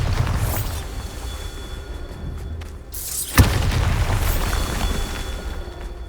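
A Bombarda spell explosion in Hogwarts Legacy lands as a single sharp, loud boom midway, rising over a steady rumbling game-ambience bed, with no speech.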